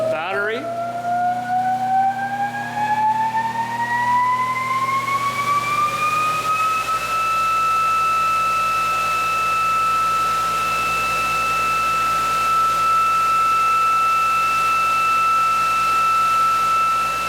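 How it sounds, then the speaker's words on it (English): A generator feeding power to a battery sends up a high electrical whine. It climbs in pitch for several seconds, then settles into a steady, loud tone over a constant low hum. "So this here is the input that we're supplying from the generator to the battery."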